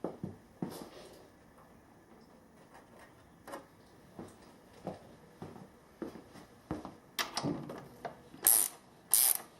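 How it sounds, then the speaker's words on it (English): A hand wrench ratchets on parts of a 1975 Sport being recommissioned, with short bursts of clicking pawl strokes separated by pauses, close up and fairly quiet, ending with a couple of sharper metallic clicks. "Just going to use that wrench on there to make things a bit easier."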